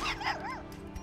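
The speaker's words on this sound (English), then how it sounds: "Oh, a little bark from the Wolf Cub." A wolf cub companion in the video game Darkest Dungeon II gives a short, yipping bark with a whimpering, rising-and-falling tone, two or three quick calls over game music.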